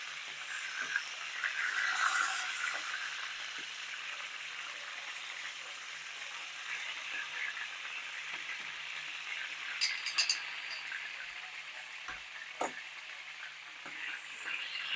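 Chicken pieces frying in a pan for Vietnamese chicken rice, a steady close sizzle of hot oil with small pops and a few light utensil clinks throughout, with no talk.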